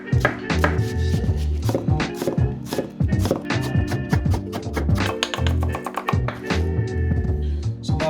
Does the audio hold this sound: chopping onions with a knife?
yes